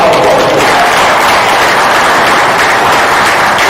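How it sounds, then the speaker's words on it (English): An audience applauds a speaker at a political gathering, loud, dense clapping that stays full and constant throughout. "Give him a round of applause."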